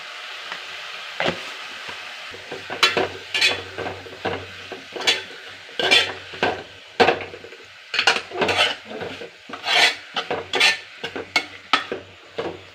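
Salt added to chopped greens in a pot, then repeated metal spoon scrapes and clanks against the pot in uneven bursts over a faint sizzle, close and distinct, no speech.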